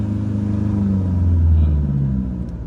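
Heavily loaded truck descending a mountain road in low gear, its engine giving a loud, sustained low drone with slowly shifting pitch, swelling midway then easing off near the end, with no talk.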